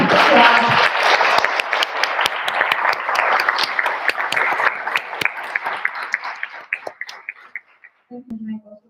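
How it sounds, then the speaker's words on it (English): Symposium audience applauding the chairs, with dense sustained clapping from a crowd in a hall that thins out to scattered claps, and a voice briefly heard at the end. "I just would like to start with a really, really big applause to the all chairs which are here"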